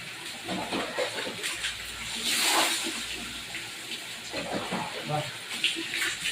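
Water is poured and splashes steadily during an outdoor bath near a comfort room, a close, continuous gushing with a louder surge midway as someone talks over it.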